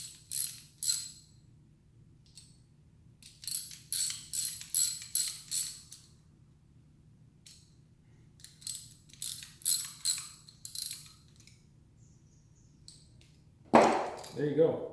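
A wrench snugs down a ball valve, giving repeated short ratcheting clicks in bursts with brief pauses, followed by a sharp metallic clang at the end.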